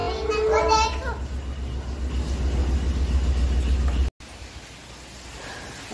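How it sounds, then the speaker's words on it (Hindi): A garbage truck idles nearby with a low, steady engine drone, while children's voices chatter over it early on before the engine hum carries on alone. "कचरा गाड़ी में कचरा डालेगा"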